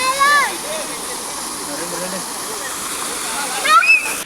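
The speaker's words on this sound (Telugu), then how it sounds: "బుద్ధుడి విగ్రహం నుంచి వాటర్." Water streams from a Buddha statue fountain at a family adventure park, making a steady hiss-like rush throughout while someone talks over it and close voices break in near the start and end.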